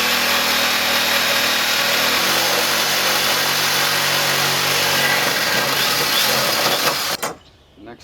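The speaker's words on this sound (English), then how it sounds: "This blade has a metal blade on the jigsaw," A jigsaw fitted with a metal-cutting blade saws through material for a planter, running loud and steady close up for about seven seconds before cutting off abruptly.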